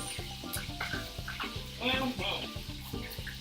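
Fish frying in about an inch and a half of vegetable oil in a pan, a steady crackling sizzle with soft stirring clatter throughout, fairly quiet and close.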